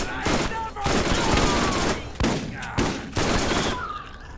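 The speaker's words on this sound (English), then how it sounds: "Who else is shooting at me?" Rapid gunfire in the shooter game Borderlands comes in dense, loud volleys broken by brief pauses, close and continuous over several seconds.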